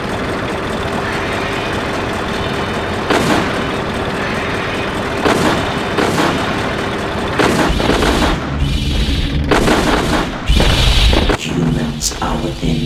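Martian war machines firing on targets in a War of the Worlds video game, a loud droning engine hum broken by repeated heavy booming shots that grow denser toward the end, with voices speaking over it.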